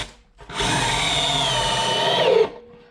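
A power drill drives a 3.5 inch screw into wood while building a raised bed, one loud continuous whirring run of about two seconds that bogs slightly toward the end before stopping.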